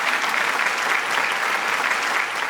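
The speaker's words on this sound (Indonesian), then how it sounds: "Mari kita berikan tepuk tangan." Loud, dense audience applause welcoming the judges at a jade and gemstone appraisal competition, a continuous roar of many clapping hands with no voices.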